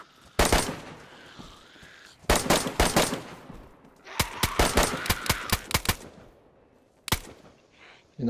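Bursts of rapid automatic gunfire in the video game DayZ, several volleys, loud and close, separated by brief pauses, with a single shot near the end.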